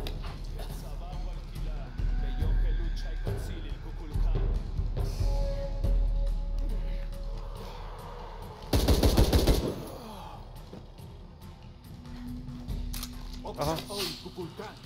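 Gunfire in the action-adventure game Shadow of the Tomb Raider, a sharp burst of shots near the middle amid scattered metallic clicks and rumbling ambience, with someone talking over parts of it.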